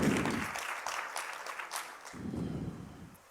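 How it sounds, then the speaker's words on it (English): A graduation audience applauds newly qualified cell phone repair technicians, a brief, moderately loud burst of clapping that dips and swells again before fading. "Give them a hand of applause."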